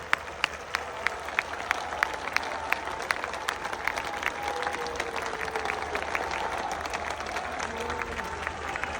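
A lecture audience in Karachi applauds to welcome Dr Zakir Naik: dense, steady clapping from a large crowd fills the hall throughout, with sharp individual claps standing out near the start.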